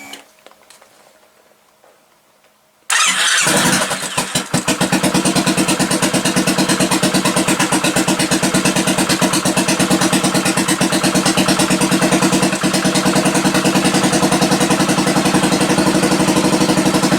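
A Royal Enfield motorcycle engine is quiet at first, then fires up after a few seconds. It settles into a loud, close idle with an even, rapid thumping beat that carries on to the end.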